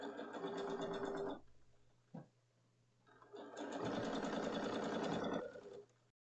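A domestic sewing machine stitching a large pillow, running in two close, loud bursts of rapid mechanical whirring separated by a short pause with a single click.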